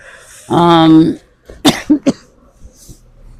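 A short burst of throat-clearing followed by two or three sharp coughs, close and loud, with a faint voice at the start.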